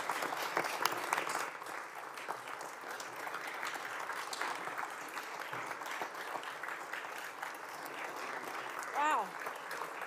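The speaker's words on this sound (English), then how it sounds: "That was some applause," Sustained audience applause at a State of the State address, a dense, even wash of clapping from a large chamber crowd lasting the whole stretch, with a brief whistle near the end.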